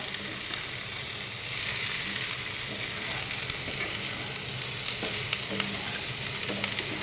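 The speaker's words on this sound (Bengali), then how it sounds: "আর ক্যাপসিকামটা তো একদমই হালকা ভাজবো।" Capsicum and paneer frying in a pan, a dense even sizzle with occasional light stirring clicks, steady and close with no talking.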